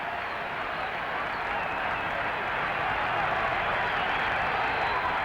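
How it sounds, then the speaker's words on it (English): Roaring baseball stadium crowd at a 1978 Yankees game cheering Ron Guidry's strikeouts, a steady, dense wash of cheering that holds loud and unbroken throughout. "Listen to this crowd. They're unbelievable."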